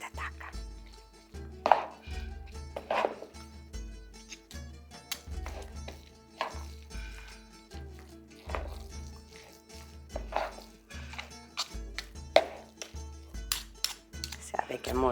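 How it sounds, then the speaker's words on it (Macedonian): Two tablespoons scrape and clink against a bowl while mixing a creamy spring salad, a steady series of close, irregular metallic taps and knocks with low thuds underneath. "Мене ми е најдобро вака кога ќе мешам со 2 супени лажици"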